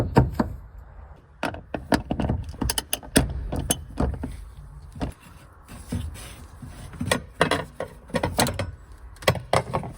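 A special tool working the fuel tank locking ring on a BMW 435i, a series of irregular sharp metallic clicks, knocks and ratcheting scrapes close by, with short pauses between bursts.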